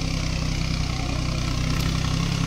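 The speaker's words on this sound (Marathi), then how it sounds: "चढ हा 4x4 tractor, 4x4 new Holland tractor आहे." A New Holland 4x4 tractor carrying passengers up the slope to a hilltop temple, its diesel engine droning close and steady with a low, even throb throughout, no talk.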